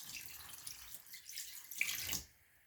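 Water trickles and splashes briefly from a tap into a sink as a small amount is added for knitting, a soft steady pour with a brighter splash near the end before cutting off.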